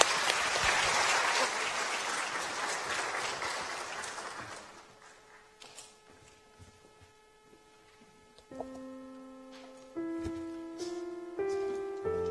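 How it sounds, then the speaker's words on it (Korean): Church congregation applauds to welcome speakers, a dense burst of clapping for about four seconds that fades into a quiet room, followed by sustained keyboard or organ tones. "박수로 환영해 주시기 바랍니다."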